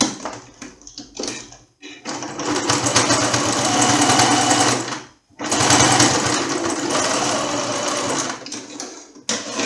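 A sewing machine stitches a seam on a baby toiletry bag, running in long, loud, rapid bursts of mechanical clatter, with brief pauses between runs.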